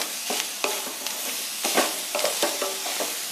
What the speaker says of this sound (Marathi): गॅस मी मंद असेवरती आपण हे सारण भाजून घेणार आहोत.